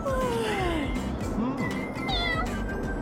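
A kitten meows several times in quick succession, rising and falling cries close up and fairly loud over a steady background hum.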